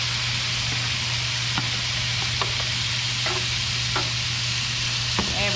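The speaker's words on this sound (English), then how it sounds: "now our pan is nice and hot and buttery. We're about to hit it with this steak" Steak is frying in a hot buttered pan for a steak stir fry, with a steady close sizzle under a low hum and a few light clinks of stirring and utensils. No one speaks.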